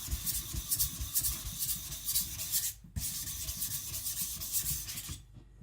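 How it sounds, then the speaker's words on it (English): A Tojiro white steel shirogami nakiri knife being sharpened and thinned on a wet whetstone, giving steady rhythmic gritty scraping strokes up close with a brief pause midway and a stop at the end. "This is where my sharpening is best, on the left side of the knife"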